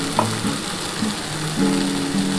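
Poppy seed paste fries with okra and potato in a pan, a close, even sizzling hiss with faint stirring and a low steady hum.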